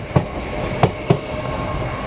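An LNER Class 801 train, unit 801-226, runs past at Doncaster, giving a steady rolling rumble with three sharp wheel clacks over rail joints, fairly faint, with no voices.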